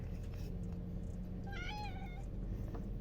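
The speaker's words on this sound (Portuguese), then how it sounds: "Apareceu um gato agora querendo carinho aqui" Cat meowing for affection, a single clear rising-falling meow close by over a steady electrical hum and faint background noise.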